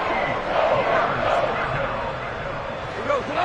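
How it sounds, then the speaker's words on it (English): A stadium crowd at an American football game roars steadily through a tense third-down moment, a dense wall of distant cheering and noise that surges slightly midway. "The crowd getting into it as we come up on a big 3rd down"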